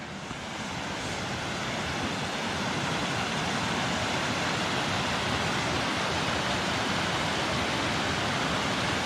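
A little creek crossing a forest trail along the North Fork Skokomish River, its water rushing in a constant, full broadband roar that swells slightly as it nears and holds steady without talk.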